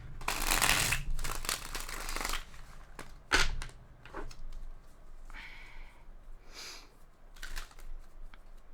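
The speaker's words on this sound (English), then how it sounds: "Let me just shuffle one more time." Tarot cards shuffled in several bursts of riffling and flicking, loudest in the opening seconds with sharper snaps around the middle, then softer scattered card sounds trailing off, with no talking.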